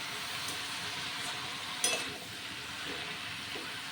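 Diced ash gourd stir-fried with spices in a pan, a steady close sizzle with soft scraping stirs and a brief clink of the spatula partway through.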